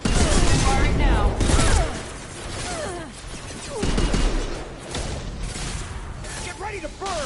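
Gunfire and explosive booms from the video game Mass Effect 2 come in dense, loud bursts mixed with game voices and combat chatter, easing off midway before another heavy burst.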